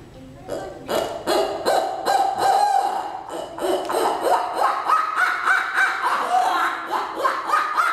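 A reed owl hooter blown in a rapid run of throaty hoots, pitch wavering up and down, loud and close with no speech.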